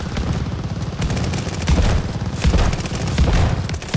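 Rapid, dense shotgun fire in Call of Duty Vanguard, a continuous barrage of loud overlapping blasts rattling through the whole four seconds with little else audible.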